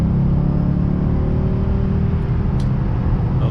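A Lexus RC F drives while its brake pads are bedded in, giving a steady, close engine and road rumble with a faint whine and no speech.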